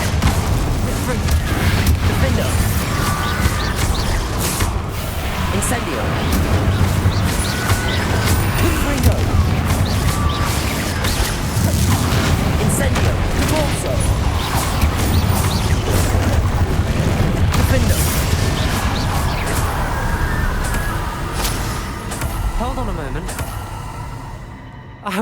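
Incendio fire spells and combat in Hogwarts Legacy: a continuous dense barrage of fiery bursts, whooshes and impacts over rumbling low noise, sustained and loud for about twenty-five seconds, with brief shouted voices mixed in.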